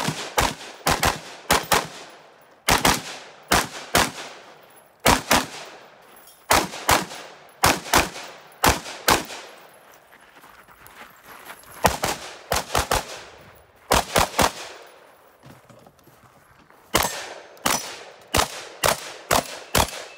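Rapid strings of rifle and pistol shots ring out at an outdoor 3-gun match in Atlanta, fired from an HK MR556 rifle and VP9 pistol in bursts of quick, sharp cracks with short pauses between strings, loud and close.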